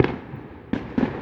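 Distant Fourth of July fireworks pop in several separate bursts, one near the start and three more close together toward the end, each a sharp, rumbling report with no talking.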